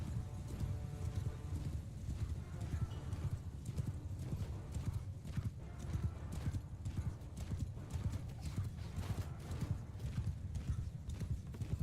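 Rapid, steady hoofbeats of many cavalry horses galloping together in the video game Mount & Blade II: Bannerlord, a dense drumming clatter with an occasional whinny, loud and continuous throughout.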